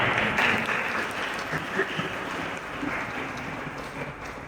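An audience applauds at a talk: a dense, moderately faint wash of clapping that runs evenly throughout without pause.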